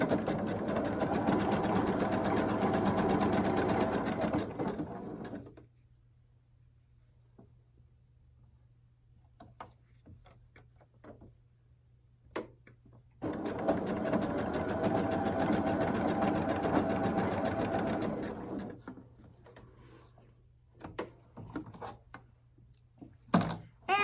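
A sewing machine stitches a quilt block directly along a marked line, running in two steady whirring bursts separated by a quiet pause with small clicks and handling noises.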